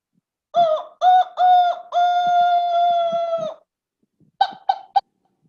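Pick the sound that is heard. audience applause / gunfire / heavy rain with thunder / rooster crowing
rooster crowing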